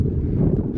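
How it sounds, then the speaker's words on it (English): Steady wind buffeting a microphone high on an exposed mountain ridge in rainy weather, a continuous low rumble with no voices. "It's getting pretty windy and rainy up here again."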